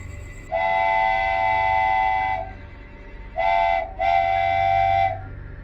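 A train horn sounds at night, one long blast followed by two shorter ones over a low rumble of rail traffic, loud and near with no voices.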